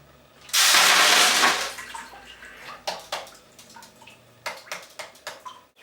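Tumbled rocks rinsed under running water, with a loud gush lasting about a second, then scattered splashes, drips and rattling rock sounds close by.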